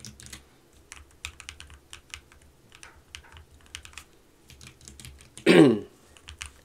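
Scattered keystrokes on an ROG Scope 96% keyboard, sparse and close, with one louder throaty burst near the end.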